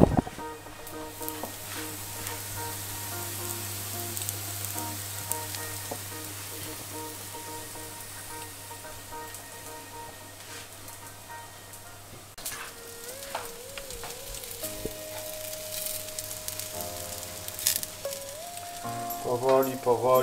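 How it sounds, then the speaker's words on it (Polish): Steady frying sizzle of breadcrumb-coated meatballs crackles continuously in a pan, with a low hum underneath and a few clinks of utensils toward the end. "Powoli, powoli się smaży."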